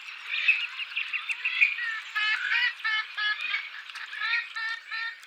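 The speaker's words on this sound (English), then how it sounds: "The flamingos share the abundance of these wetlands with many other species of birds, such as the purple swamp hens." Purple swamphens calling in a wetland, a run of harsh, nasal, rapidly repeated squawking notes that rise and fall in bursts, fairly close and continuous with no talk over them.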